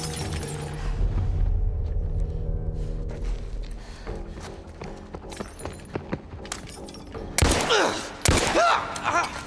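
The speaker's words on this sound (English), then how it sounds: "who's shooting me?" Gunfire in The Last of Us: scattered shots and sharp impacts over a rumbling low background, with a loud cluster of cracks and shattering near the end.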